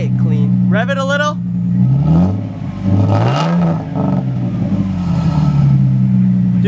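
Lexus IS300 with an aftermarket DNA exhaust revving up, the engine note rising and falling in a couple of loud close blips, with people talking over and around the revs.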